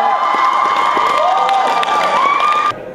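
An audience at a school event day cheers and applauds loudly, with bright whoops and shouts over dense clapping throughout, cutting off abruptly near the end.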